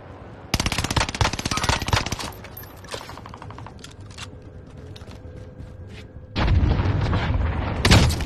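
Video game gunfire: rapid automatic bursts up close, then scattered single shots and a loud sharp burst near the end, with no talking.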